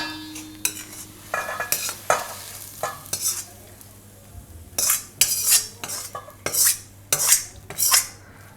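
A spoon scrapes and clinks against a metal pot in repeated bursts as cooked bottle gourd is scraped into another pot, close and fairly loud, with a steady hum underneath.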